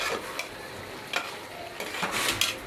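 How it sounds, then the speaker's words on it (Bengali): Curry cooking in a pan at home, with soft stirring scrapes and a low, steady sizzle, plus a few brighter clinks of a spoon against the pan. "তাই আমি তরকারি দুটো আগে রান্না করে নিচ্ছি"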